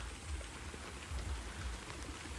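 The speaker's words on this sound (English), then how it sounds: "And the rain come back down." Rain falls steadily outdoors, a faint, even hiss of drops with a low rumble beneath and no voices.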